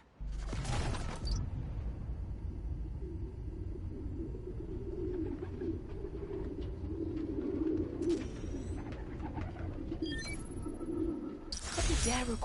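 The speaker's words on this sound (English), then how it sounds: "Place was swarming with pigeons." Pigeons coo in a park scene from the video game Spider-Man: Miles Morales, a soft low burbling that runs steadily under background noise, with brief brighter game sounds near the start and end.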